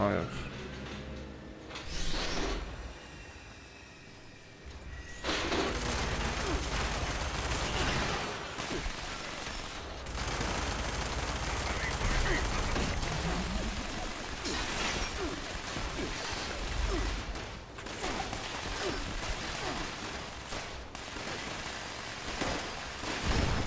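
Bursts of rapid gunfire in the video game Fallout 76 crackle over a dense noisy background, with a voice talking intermittently between the volleys.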